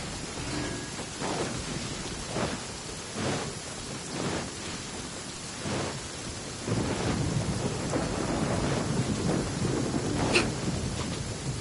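Steady rain pours through a Genshin Impact scene while repeated thunder rumbles roll in every second or two, with a sharper crack near the end; the downpour grows slightly heavier partway through and no one speaks.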